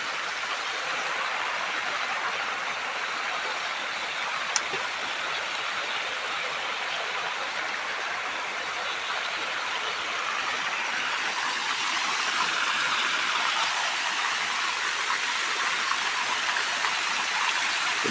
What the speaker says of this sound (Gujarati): સારું, પાઇપ તો ફાટી ગયું, પાણી તો બધું હોય જ નીકળી જવાનું.